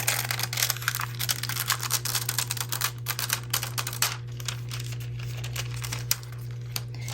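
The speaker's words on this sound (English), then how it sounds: "we're going to slowly peel the foil away." Metallic craft foil is peeled slowly off dry gel-coated paper, giving a close, continuous run of fine crackling and crinkling ticks, dense at first and thinning toward the end, with no voices.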